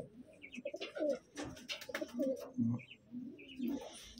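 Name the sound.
pigeons cooing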